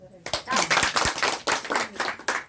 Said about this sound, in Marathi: टाळ्या